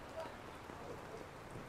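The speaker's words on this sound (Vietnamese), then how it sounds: "Mưa rất là to luôn." Heavy rain pours steadily during a windy storm in Da Nang beside a street market, a dense continuous hiss at moderate volume.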